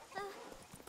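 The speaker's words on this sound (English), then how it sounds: "Where the heck is my horse?" Hooves of the horse in The Witcher 3 clip-clop briefly and fairly quietly under a person talking.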